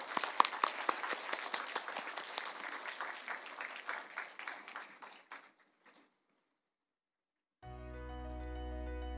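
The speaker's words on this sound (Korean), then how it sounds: "우리 청년들 향해서 박수로 한번 격려하겠습니다" Church congregation applauding to encourage the young people at a Sunday youth service, many hands clapping briskly, fading out after about six seconds into silence before music begins.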